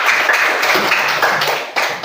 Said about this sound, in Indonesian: Oke, tepuk tangan untuk Tasya.